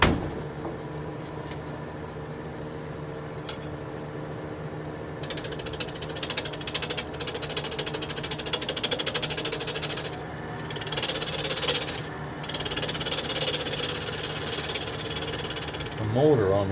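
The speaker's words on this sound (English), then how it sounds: "The motor on this lathe is a variable speed, and there's something wrong with it." A variable-speed lathe motor with a fault runs under cutting load, giving a steady mechanical drone with rattling, gear-like chatter that swells and dips in level over several seconds, close and continuous with no talk.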